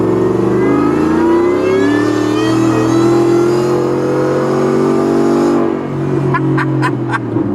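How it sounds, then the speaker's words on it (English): A supercharged car with a whine mod pulling hard on a first test drive, its loud rising supercharger whine sustained over engine roar for several seconds before easing off, followed by a few short chirps near the end. "I think you're going to go to jail trying to listen to the supercharger whine."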